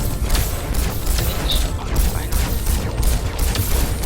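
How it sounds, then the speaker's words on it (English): Heavy gunfire in the tactical game There Came an Echo: a dense, continuous roar of shots and impacts fills the whole stretch at close range. "We're under heavy fire."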